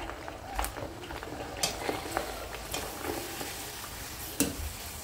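Khiche papad frying in hot oil, a steady sizzle broken by sharp crackles and pops at irregular moments, close and moderately loud, with a stirring clatter now and then.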